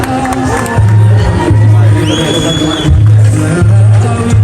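A large crowd at an evening celebration cheers and claps loudly and steadily, with whoops rising above the noise and a voice calling out briefly partway through.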